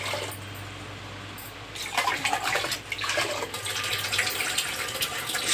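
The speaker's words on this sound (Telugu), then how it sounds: "1 గ్లాస్ బియ్యానికి 4 గ్లాసుల వాటర్ యాడ్ చేసుకోవాలి." Water is poured from a glass into a pressure cooker holding soaked rice and lentils, a steady splashing gush that starts about two seconds in and continues to the end.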